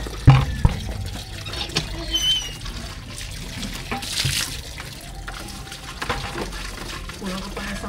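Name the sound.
water being poured out from a basin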